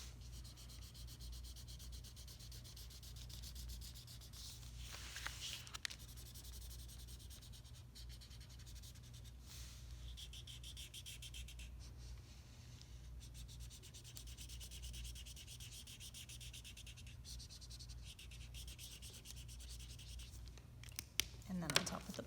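Markers scratch and rub across paper in quiet, continuous strokes, red first and then blue drawn over it, with soft paper handling and a faint background hum.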